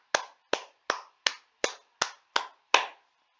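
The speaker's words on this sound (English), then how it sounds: "That was me clapping, by the way." One person claps their hands eight times at a steady, even pace. Each crisp, close slap stands alone against silence.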